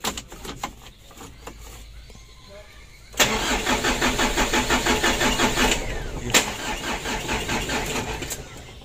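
A car engine with a drained battery cranks in fits, with a few short sputters first and then a long, loud, labored rhythmic cranking that pauses briefly and starts again. Someone talks over it.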